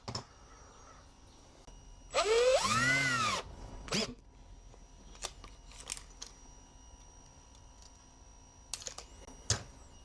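A drill bores into a wood piece during a DIY truck camper interior build, one short whining burst that rises and falls in pitch, followed by scattered clicks and handling knocks.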